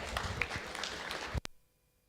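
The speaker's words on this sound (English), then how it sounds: "Let's have a huge round of applause for him." Audience applause for a speaker taking the stage at a cloud technology community event, a crowd's scattered clapping for about a second and a half, then cutting off abruptly into near silence.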